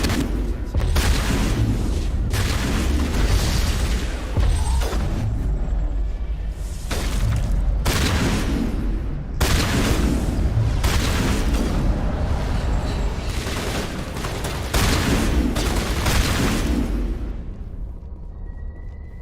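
Shotgun blasts in Mass Effect ring out repeatedly, about seven heavy booming discharges spaced roughly two seconds apart, each with a broad crashing burst that decays into the next, loud and close.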